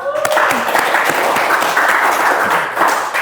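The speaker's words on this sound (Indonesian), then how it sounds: "Oke, tepuk tangan dulu dong." A studio audience claps to welcome guests on an Indonesian youth talk show about stunting prevention, a dense, even wash of applause lasting a few seconds with faint voices mixed in.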